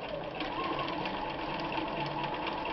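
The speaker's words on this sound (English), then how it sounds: "I'm going to sew really slow on this heavy fabric." Bernina 1130 sewing machine stitching slowly through heavy fabric, a steady continuous mechanical whir with a soft, even needle rhythm, close and unbroken throughout.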